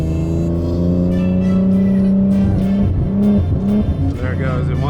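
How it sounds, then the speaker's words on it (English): A tuned Infiniti G37 pulls in third gear, its engine note humming steadily and then rising as it revs harder, loud and close, with someone talking over part of it. "I'm gonna do a quick little third gear pull for you guys to show you"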